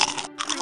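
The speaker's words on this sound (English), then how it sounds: "were just eating potato chips here" Cartoon characters crunching potato chips, crisp, close bursts of crunching with a brief pause between two bites, loud and alone without speech.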